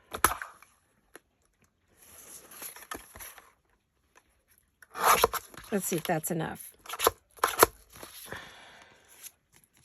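Scissors cutting down a paper junk mail envelope, a quick burst of crisp snipping and paper rustle in the middle, with a person talking quietly before and around it.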